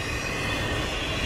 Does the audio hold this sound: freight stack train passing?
yes